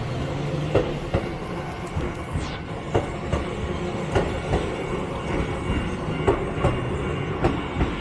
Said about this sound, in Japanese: 淀屋橋行きの区間準急ですね、2000系電車が通過していきます。